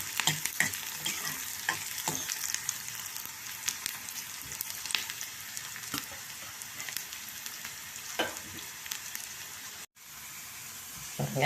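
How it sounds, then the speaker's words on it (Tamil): Steady crackling sizzle of onions frying in hot oil for tempering spinach sambar, with occasional stirring clatters and a brief dropout near the end. "தாளிக்கிறதுக்கு வெங்காயம் பச்சையாக இருக்கக்கூடாது நல்லா ப்ரௌனாக வரணுங்க"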